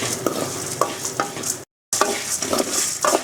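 Chicken sautéing with ground roasted masala for a koli roast, a constant sizzle broken by repeated scraping stirs of a spoon against the pan and one brief drop to silence.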